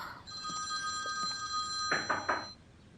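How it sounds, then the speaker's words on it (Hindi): A telephone rings with bright electronic tones, a short sustained chime that breaks into three quick pulses before stopping, fairly close and clear over a quiet room. "आपका फोन बज रहा है,"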